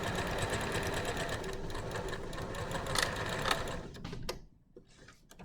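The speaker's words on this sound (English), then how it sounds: "So now I'm just going to top stitch and just follow along the very, very edge of this nicely." A sewing machine runs steadily while top stitching along the edge of bias binding, with a close, continuous mechanical whir that stops near the end and leaves a few faint clicks.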